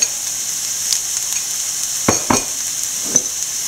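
Onion and grated coconut sizzle steadily in a hot pan with a bright, continuous hiss, broken by a few close scraping stirs of a spoon through the mix, no voices present.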